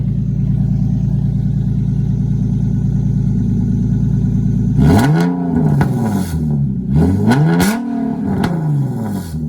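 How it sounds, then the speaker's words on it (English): Nissan 370Z fitted with an ISR Y-back exhaust, first idling with a steady low drone, then revved hard several times, each rev rising and falling loudly and close with a raspy tone. "I'm gonna give it a rev here"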